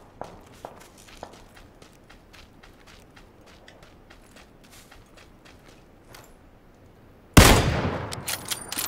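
Gunfire in PUBG on Xbox One, faint scattered distant shots and light clicks for most of the stretch, then a loud close burst of rapid shots near the end.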